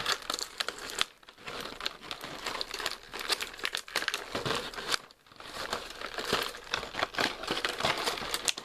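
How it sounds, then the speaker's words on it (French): Tape and packaging are pulled off the box of a Myth Cloth EX Pegasus Seiya V2 40th Anniversary Edition figure, making close, continuous crinkling and tearing with short pauses. "on va ouvrir tout ça. Parce qu'il y a du scotch autour."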